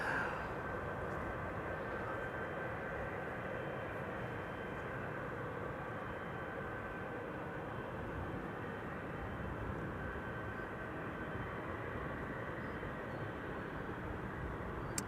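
Alpha Star Airbus A319 taxiing at Amsterdam Schiphol Airport, a steady broad engine rumble and hiss holding at an even level throughout, heard from a distance with no talk over it.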